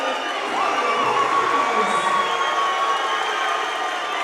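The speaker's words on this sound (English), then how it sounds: "The home crowd doesn't like it," A home crowd at a high school wrestling finals tournament sends up a loud, continuous roar of cheering and shouting, with whistles cutting through the noise.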